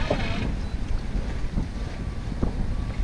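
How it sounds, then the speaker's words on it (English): Wind gusts across a sailboat at sea as it sails toward Kauai, a loud, continuous rumbling rush with buffeting on the microphone and no voices. "We're just getting that wind coming around there now."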